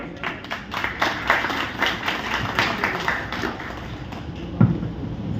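Applause from the audience at a Rotary Club installation day function, a thick run of clapping with scattered sharper claps and one louder thump near the end.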